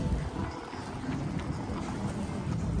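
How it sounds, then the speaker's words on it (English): Choppy water and gusting wind at St Pete Pier make a steady broadband rush with rumbling wind buffeting across the microphone throughout. "The water is choppy. A little bit windy out."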